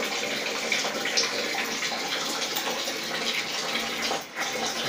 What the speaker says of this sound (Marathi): बघा पाणी खाली पडतं.